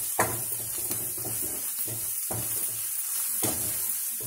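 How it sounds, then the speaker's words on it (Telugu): Fish curry masala with turmeric and coriander powder being stirred in a pan, with a low sizzle and scraping strokes at an uneven rhythm, close by, with no talking. "ఇదంతా బాగా కలుపుకొని"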